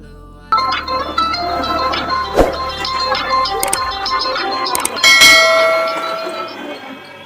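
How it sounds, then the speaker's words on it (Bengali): A Walton feature phone plays its ringtone, a bright chiming melody of bell-like tones sounding out loudly at close range with a few sharp metallic hits. "আমি একটু আপনাদেরকে রিংটোনের সাউন্ডটা শোনাতে চাচ্ছি, যে এই ফোনটির রিংটোনের সাউন্ডটা কেমন।"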